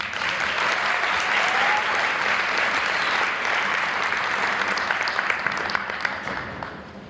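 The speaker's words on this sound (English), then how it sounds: "Another round of applause for Mr." Sustained, dense audience applause fills a hall at an Assyrian language and culture celebratory dinner in Niles, Illinois, holding steady for several seconds before tapering slightly at the end.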